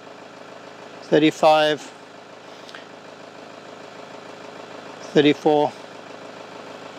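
A vehicle engine idling steadily with a low continuous hum throughout, close and even, while someone speaks briefly twice over it.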